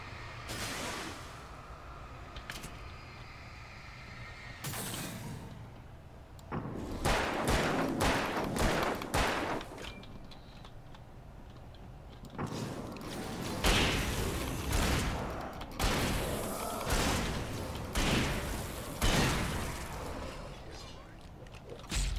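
Gunfire in the video game Alan Wake: a string of sharp, loud broadband cracks and thuds in bursts, some spaced and some clustered, over a dark ambient bed, with occasional short speech.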